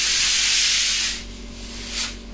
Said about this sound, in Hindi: कुकर की सीटी उठाएंगे भी हम